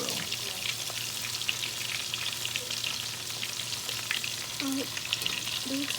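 Fish pieces browning in a hot pan give a loud, continuous close sizzle with fine crackling spatter and a couple of brief tonal squeaks near the end; no talking.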